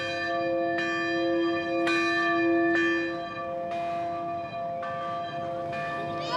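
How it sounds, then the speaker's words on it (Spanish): A single colony bell rings out several times at a steady, unhurried pace, summoning members to a meal; each bright metallic strike leaves a long ringing hum, with no voices. "la campana llama a los miembros de la colonia para comer"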